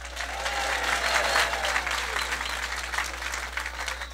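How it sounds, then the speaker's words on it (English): Sustained applause from a large crowd at a political rally in West Palm Beach, a dense steady patter of clapping held at an even level throughout without letup. "Palm Beach Mayor Jerry Muio, give her a big round of applause."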